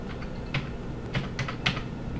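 Zeros are typed on a computer keyboard, about six close, light key taps in an irregular burst against a quiet room background.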